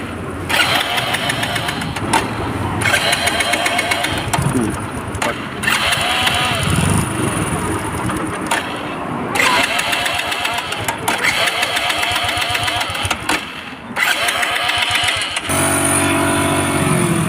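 A Hero Passion Pro motorcycle engine starts and runs steadily, a loud, close, continuous throbbing with brief dips and revs, with no talk over it.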